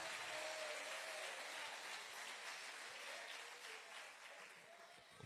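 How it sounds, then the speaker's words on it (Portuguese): A church congregation applauds during a service, a faint, even rush of clapping from many hands that slowly tapers off, with a voice heard over it. "Aplauda Jesus, irmãos."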